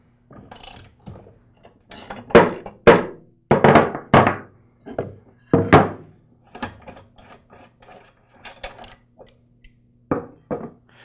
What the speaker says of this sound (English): I'll use a socket wrench and a piece of 2x4 to remove the blade.